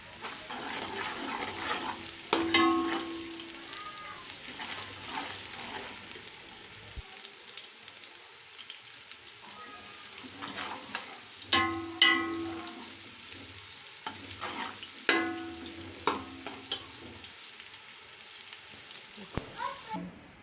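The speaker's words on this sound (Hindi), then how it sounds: "अब हम प्याज ब्राउन करेंगे।" Onions fry in about one and a half pav of oil in a pot for beef pulao, a soft continuous sizzle with occasional louder stirring scrapes and clinks, fairly quiet and without talking.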